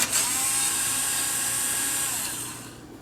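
A power screwdriver whines steadily while backing screws out of a Macintosh, a high sustained buzz that fades out at the end.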